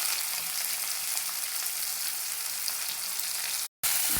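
Onions frying in hot oil give off a steady, dense sizzle close by, with one brief dropout near the end.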